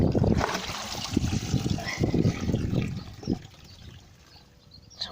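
Freshly harvested Anya potatoes being rinsed by hand in a bucket of water, with close splashing and trickling that runs steadily for several seconds before tapering to a quieter dribble.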